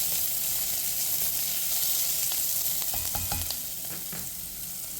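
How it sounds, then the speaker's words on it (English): Onions and broccoli stems sauté in a pan for a healthy vegan carrot soup, giving a steady close sizzle with a few soft stirring scrapes near the end and no voices. "we are going to add onion, broccoli roots, saute them for 2 minutes"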